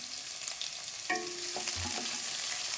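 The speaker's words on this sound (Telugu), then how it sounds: "ఇవి గోల్డెన్ కలర్ వచ్చే వరకు ఫ్రై చేద్దాము" Sliced onions frying in oil with mustard seeds, a steady soft sizzle with a few louder crackles and stirring scrapes midway, close and continuous, no voices.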